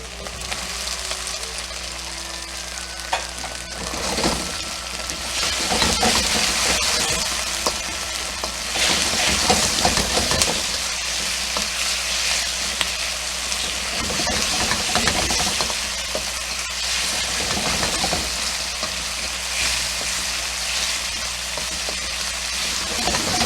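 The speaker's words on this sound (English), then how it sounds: "Now it's time to add the onions." Onions going into a hot pan for a broccoli beef stir fry crackle and sizzle loudly and continuously, with stirring clatter and brief louder bursts.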